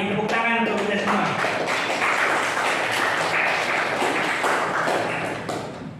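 Indonesian junior high classroom students applauding together after a test, a dense burst of clapping that fills the clip and tapers off at the end.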